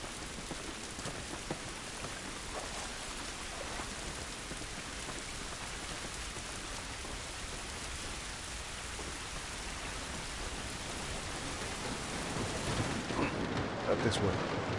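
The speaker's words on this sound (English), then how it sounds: "This rain ain't gonna do us any good." Steady rain falls in The Last of Us, a dense even hiss of drops on surfaces that swells slightly toward the end, with voices speaking over it at times.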